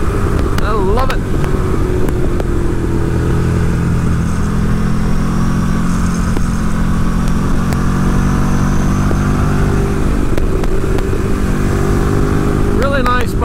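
Ducati 1098 Streetfighter motorcycle being ridden, its engine droning loud and steady close by with rising and falling revs under constant wind rush, no voice standing out.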